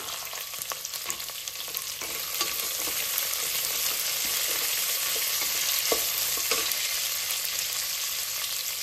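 Onions and green peas frying in oil, with a steady loud sizzle close by and occasional spoon scrapes and taps as they are stirred.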